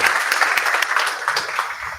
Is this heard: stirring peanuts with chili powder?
no